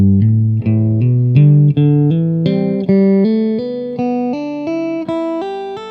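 Electric guitar working through a three-note hammer-on and pull-off pattern, a steady run of connected notes stepping gradually upward, loud and close with a slightly effected, sustained tone and no talking.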